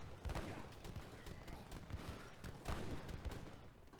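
Organ guns and cannons firing in Age of Empires III during a competitive match, rapid crackling volleys and booms in repeated bursts across the battle, with the game's background din underneath.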